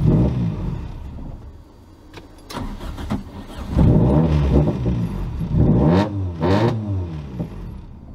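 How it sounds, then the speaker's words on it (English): A street-tuned Toyota 4AGE engine fitted with an Apexi SAFC cranks and catches, then revs up and settles several times in loud, close bursts with no talk over it. "Let's see if it'll start and run now. I'm gonna probably rev it a few times."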